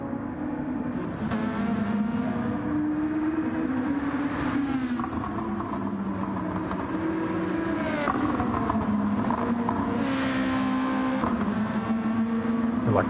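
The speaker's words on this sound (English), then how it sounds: "I like the sound of these engines, they sound great, don't they? Popping and banging as they're off the throttle" Multiclass race cars at Le Mans in the URL L1 series, engines roaring continuously with pitch sweeps as they rev and lift off the throttle, loud and close throughout with no talk over them.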